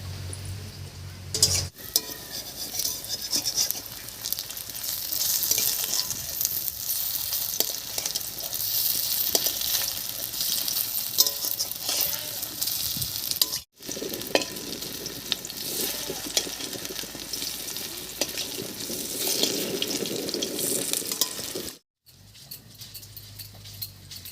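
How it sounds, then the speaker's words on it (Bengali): Thankuni leaf paste fritters fry in a pan of hot oil, a loud continuous sizzle with occasional scraping as they are flipped, broken by two brief pauses. "বাটাটা বাড়তে বাড়তে বড়টা এক পাশে ভাজা হয়ে গেছে একবার উল্টে নিচ্ছি"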